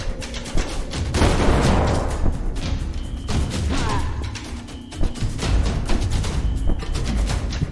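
Shotgun blasts and other gunfire in a haunted PS1-style horror demo game come as loud, irregular booms and bursts among clattering game effects.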